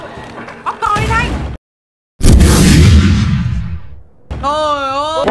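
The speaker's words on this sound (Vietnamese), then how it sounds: "súng nổ to quá ù hết cả tai luôn" A loud shotgun blast in the horror game Little Nightmares 2, one sudden broadband burst after a short hush, bracketed by excited talk before and after.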